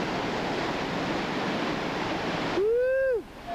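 Whitewater rapids on the New River in the New River Gorge rush in a loud, steady broadband roar, cut off near the end by a brief rising-and-falling whistle-like tone.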